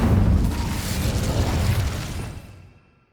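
An Incendio fire spell cast in Hogwarts Legacy, inside a cave: a loud roaring whoosh of flame that holds for a couple of seconds, then fades out to silence.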